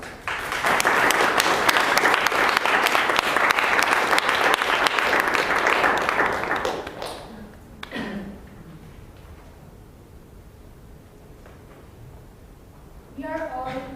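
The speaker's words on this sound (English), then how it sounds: "Please welcome with a large round of applause, Corina Rosa." Loud, sustained audience applause fills a Toastmasters public speaking meeting room for about seven seconds, then fades into quiet room tone with a brief voice and stirring near the end.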